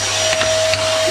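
Vacuum cleaner running during a KTM 250 EXC enduro engine rebuild: a steady close whine with a constant tone, with faint brief bumps of suction, no speech.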